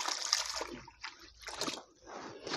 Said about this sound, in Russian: Также ее проливаю водой.